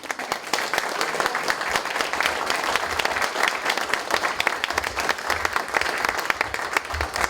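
Applause from a gathered audience on a special radio and TV broadcast program, a steady dense clapping crowd sustained throughout at moderate level.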